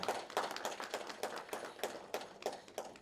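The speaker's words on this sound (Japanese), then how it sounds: "どうぞ大きな拍手をお送りください" A small crowd at a women's football league season-opening press conference claps for the managers and players of Ehime FC Ladies and Asahi Intecc Love Ridge Nagoya, sharp close hand claps sounding in an uneven, steady patter.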